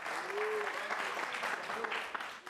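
Audience clapping during a televised debate on whether homosexuality is un-African. The clapping is moderate and continuous and somewhat distant, with faint voices blended underneath.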